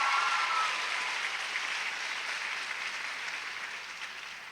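An audience at an 8th grade graduation ceremony gives a teacher steady, even applause, a dense wash of clapping that slowly tapers off, with no talking over it.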